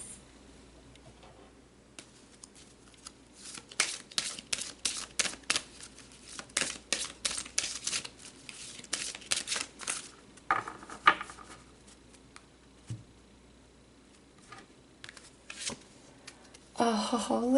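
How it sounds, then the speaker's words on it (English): Tarot cards are shuffled in quick rhythmic riffles, crisp and close, in several bursts followed by softer card handling as they are pulled, with a voice speaking at moments. "Let's pull some more cards for you"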